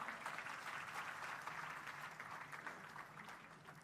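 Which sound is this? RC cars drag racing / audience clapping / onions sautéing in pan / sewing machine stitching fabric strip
audience clapping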